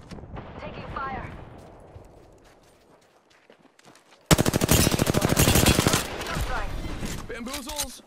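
Automatic weapon fire from the video game Apex Legends bursts in loudly and keeps going in a dense, rapid stream for several seconds, with game voice lines and effects before and after it.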